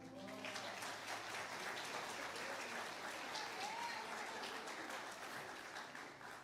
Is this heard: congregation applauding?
yes